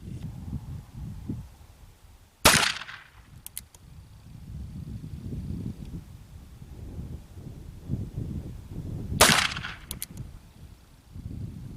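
Two sharp, loud shots from an ASM replica 1851 Navy Remington revolver, about seven seconds apart, each cracking out over a low rumble of wind and outdoor background.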